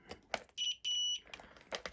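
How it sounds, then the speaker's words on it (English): Two short electronic beeps from a continuity tester checking an MG90 servo, high and clean, the second held longer, between quiet handling noises. "it'll beep if we have conductivity"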